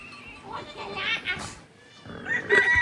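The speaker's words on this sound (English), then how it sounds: "There's loads of goats and stuff." Goats bleat in the Omo Valley of Ethiopia, with several wavering bleats at moderate distance, and people's voices are heard alongside them.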